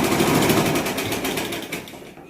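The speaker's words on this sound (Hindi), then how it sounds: "एक नीचे सिलाई लगाएंगे और एक ऊपर किनारे की सिलाई लगाएंगे।" A sewing machine stitches the pocket of a boys' school uniform shirt, a fast, even mechanical whirring and clatter that runs close and steady before slowing slightly at the end.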